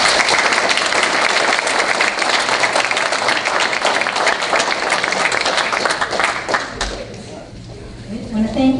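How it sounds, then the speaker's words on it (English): Attendees at a town board meeting give award winners a round of applause: full, continuous clapping that stops abruptly near the end, leaving faint room noise and a soft knock. "let's give all the award winners a round of applause."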